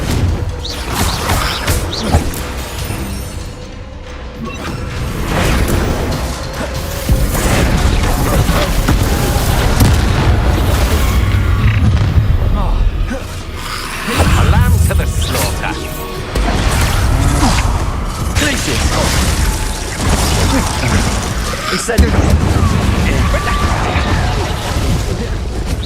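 A Confringo fire spell explodes in the Hogwarts Legacy video game, with heavy booming blasts and crashes over a steady loud bed of game action, spoken lines mixed throughout.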